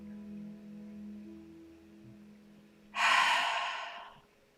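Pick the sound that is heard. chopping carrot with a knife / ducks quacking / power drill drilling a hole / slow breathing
slow breathing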